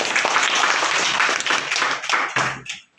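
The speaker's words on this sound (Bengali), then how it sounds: "একটু হাততালি হয়ে যাক" School audience applauding at a magic show for Mother Language Day, a dense burst of many hands clapping close and loud, then thinning out and stopping after about two and a half seconds.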